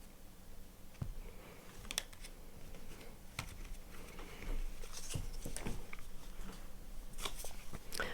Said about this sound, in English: So what I am going to do is cut the cards and begin.